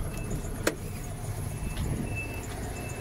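Renault Trafic van with a 1.6 dCi diesel engine at 380,000 km, idling in a low steady rumble with a single sharp click early on, heard close with no talking.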